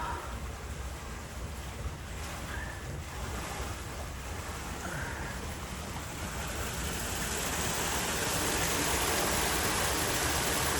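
Steady, loud rush of water flowing into a drained canal pound through a lock, a continuous broadband roar that swells a little louder toward the end, with no voices.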